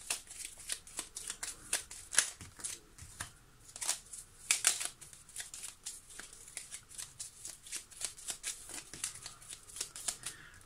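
A deck of Petit Lenormand cards being shuffled by hand during a tarot-style reading, a continuous close run of crisp riffling flicks in rapid uneven bursts.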